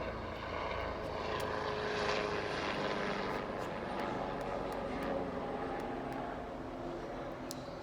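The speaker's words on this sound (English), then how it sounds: "I just saw a helicopter pass, but it was one that puts out fires." A firefighting helicopter passes overhead outdoors, a steady broadband rotor and engine roar that stays fairly loud and constant throughout, with no talking.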